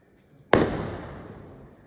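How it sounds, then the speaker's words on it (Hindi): A single sharp firecracker blast goes off at a family Bhai Dooj gathering, loud and sudden, then fades into a brief crackling decay. "हमारे आने की खुशी में यहाँ पटाखा भी जल रहा है।"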